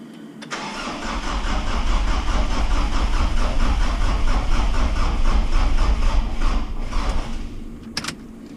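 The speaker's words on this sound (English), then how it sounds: "See what happens when we try and wind it over." A Mitsubishi Triton 4M40 2.8 turbo diesel engine with weak glow plugs cranks over steadily for several seconds out of gear, a close, loud, rhythmic starter churn that stops without the engine catching.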